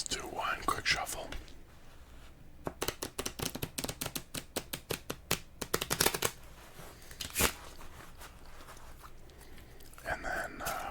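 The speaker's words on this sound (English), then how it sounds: "Let's do one quick shuffle." A deck of playing cards is riffle-shuffled in quick, crisp bursts of close fluttering snaps, with bridging rustles between, alongside soft whispering before a game of Solitaire.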